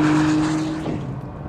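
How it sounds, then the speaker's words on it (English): A Nissan GT-R engine pulls hard under acceleration with a loud, steady drone that fades slightly as it goes on, with no other sounds over it. "The noise on this car, I think for me, is the most disappointing factor."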